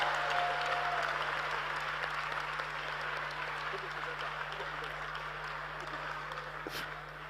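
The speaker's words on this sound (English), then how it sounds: "Clap for her." Steady applause from an audience at a youth dialogue session in Ghana, clapping for a woman who has just won a phone as a prize, holding at an even level throughout and fading slightly near the end.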